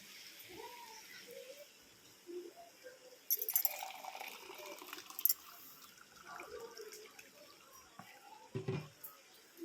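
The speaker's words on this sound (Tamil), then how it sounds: "இந்த ஒரு டம்ளர் அரிசிக்கு ரெண்டு டம்ளர் தண்ணி சேர்க்க போகிறேன்" Water poured from a tumbler into rice in a pot for vegetable biryani, faint splashing and trickling in short bursts with a few drips, quiet background between pours.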